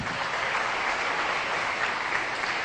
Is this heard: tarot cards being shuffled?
no